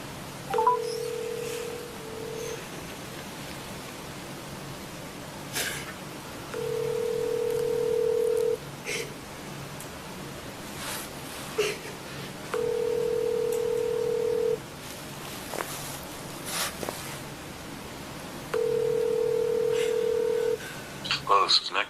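Telephone call being placed: a series of keypad tones, then four evenly spaced ringback tones of about two seconds each, recurring every six seconds, clear and moderately loud over a faint room background.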